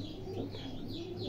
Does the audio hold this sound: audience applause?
no